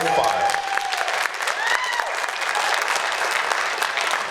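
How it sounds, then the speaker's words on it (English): A crowd breaks into loud, continuous applause for an introduced guest, with thick overlapping clapping and scattered cheers and voices rising through it. "A round of applause."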